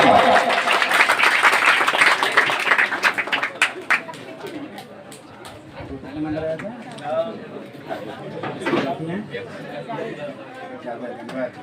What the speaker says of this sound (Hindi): तो इसी के साथ कल सभी जो 414 नंबर प्राप्त किए उनके भी एक बार जोरदार तालियां।